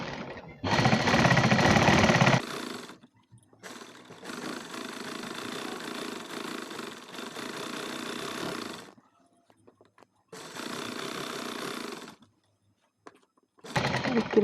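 Sewing machine stitching a four-panel petticoat, running in several bursts of steady rapid whirring separated by short pauses, close and clear with no talk.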